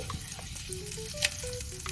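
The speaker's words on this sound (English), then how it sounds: "You see how the joint is sizzling?" Butter sizzles steadily in a hot cast iron skillet for cornbread, a constant close crackle with small pops and faint background tones.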